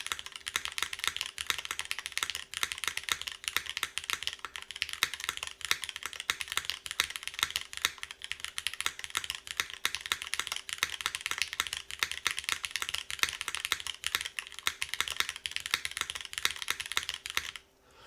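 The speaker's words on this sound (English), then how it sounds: "Let's tune up the spacebar just a smidge because I can hear a smidge of rattling on the left side." Continuous fast typing on an Adamas Proto top-mount mechanical keyboard, dense bright key clacks with the spacebar rattling slightly on its left side, close and steady without pause and with no talking.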